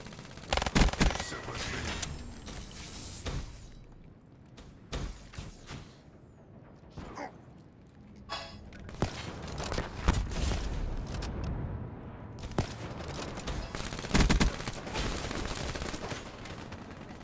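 Rapid bursts of gunfire from the Tempest gun in a video game crack out in several clusters, with quieter gaps and scattered mechanical clicks between the volleys.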